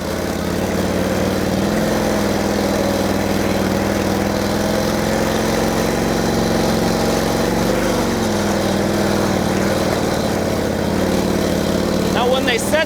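A 1949 Harley-Davidson Panhead set up for off-road riding rumbles steadily on rough, unmaintained dirt roads, its engine loud and constant with a rider talking over it.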